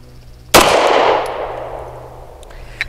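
A BUL Armory EDC pistol fires a single Browning round close by: one loud, sharp report that rings and decays over a couple of seconds, followed by a faint click.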